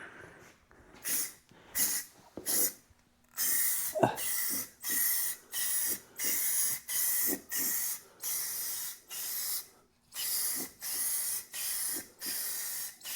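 Repeated bursts of clear coat sprayed from an aerosol can onto a patina finish, each hiss lasting about a second with short gaps between, close and fairly steady, with no talk.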